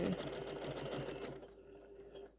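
A sewing machine runs a quick burst of straight-line quilting stitches, rapid even needle chatter that stops partway through, leaving a quiet room with faint clicks.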